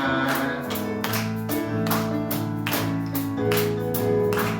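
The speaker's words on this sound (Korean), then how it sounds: "같이 박수 치며 기쁨으로 찬양하겠습니다" A church congregation at a Sunday worship service claps along in rhythm while singing a praise song with instrumental accompaniment, the beats landing regularly under sustained melodic tones.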